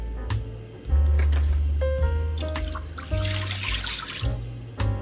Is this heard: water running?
yes